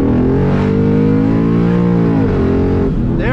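A boosted Ford Mustang GT accelerates hard, its loud engine note rising in pitch, briefly dipping at a gear shift and then climbing again, close and dominant.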